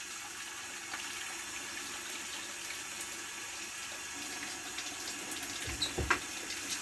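Water runs from a tap into a pot of rice, a steady close rushing stream with a few louder splashes and gurgles near the end.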